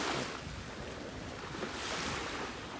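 Ocean surf rolls onto the shore as a steady broadband wash, with wind buffeting the microphone, swelling slightly near the end, with no voices.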